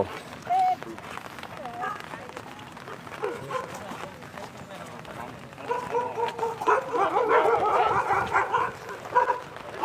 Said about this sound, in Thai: ไม่ต้องเห่า